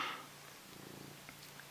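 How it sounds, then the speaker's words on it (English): Soft, low purring of a vocal female cat, faint and close, a steady rumble lasting under two seconds with no talking. "she's purring, which is very healing"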